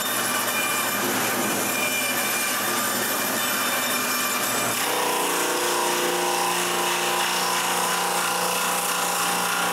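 A power saw cuts through wooden dowels with a harsh, high whine that shifts in pitch midway, loud and continuous.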